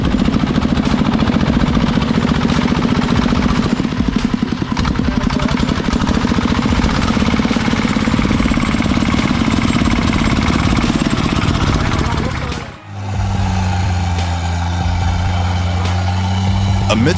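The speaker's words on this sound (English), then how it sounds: "The sound of the engine echoed throughout the quiet countryside" A heavy truck loaded with dry wood labours uphill on a countryside mountain dirt road, its diesel engine chugging loud and close with a rapid, rattling pulse. Near the end the engine drops to a steadier, lower drone.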